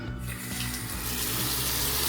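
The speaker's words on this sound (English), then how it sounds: "Let's see if the water is on." A tap runs in a luxury home in Las Vegas, giving a steady, close rushing gush of water with no talk.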